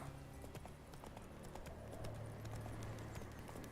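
Hooves of the horse Roach in the video game The Witcher 3, a steady clip-clop at a walking pace over a low, sustained background tone.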